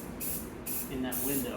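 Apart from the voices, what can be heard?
spray paint blasting gunk off pinball backglass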